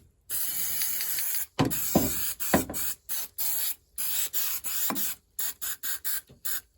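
An aerosol can sprays rust proofing inside a car body during a body mount repair, with repeated hissing bursts of varying length separated by short silences and the rattle of the can.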